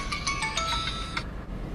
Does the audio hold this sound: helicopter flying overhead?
no